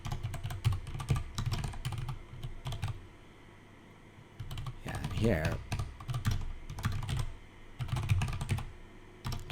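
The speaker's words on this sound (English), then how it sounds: "just typing" Rapid bursts of keystrokes on a computer keyboard, clattering in short runs with brief pauses, close and fairly loud, with a short stretch of quieter room sound and a voice speaking briefly in the middle.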